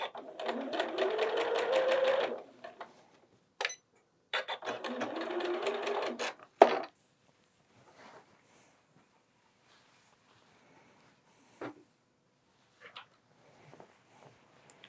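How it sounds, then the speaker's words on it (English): A sewing machine runs in two fast bursts of rapid stitching while a quilt is sewn, each burst lasting a couple of seconds. Quieter handling clicks and rustles follow in near silence. "And we're going to sew"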